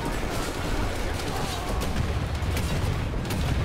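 Gunfire rattles on in a Wolfenstein: The New Order firefight, dense and continuous with heavy low booms and crackling shots blurring together, loud and close for the whole stretch.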